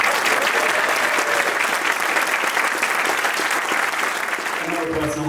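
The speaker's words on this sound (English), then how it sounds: "a massive round of applause to Steve" Sustained applause from a crowd at a U.K. Red Special meetup, dense and steady clapping close by for the full stretch, tapering slightly near the end with a faint voice underneath.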